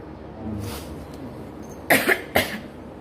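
Two or three sharp, close coughs in quick succession from someone with vocal cord nodules and a hoarse throat, after a quiet stretch of faint background noise.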